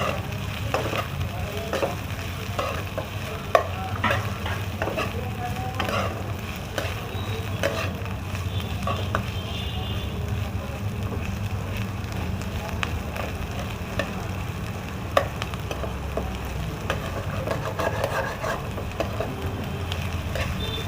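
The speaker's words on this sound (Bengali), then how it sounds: "এবারে পেঁয়াজ দিয়ে দিচ্ছি, আর এই ক্যাপসিকামটাও দিয়ে দিলাম" Onion and half a capsicum hit a hot pan with mushrooms for a salt-and-pepper mushroom fry, sizzling steadily up close. Occasional scrapes and stirring clicks cut through the constant frying hiss for the whole stretch, with no talking.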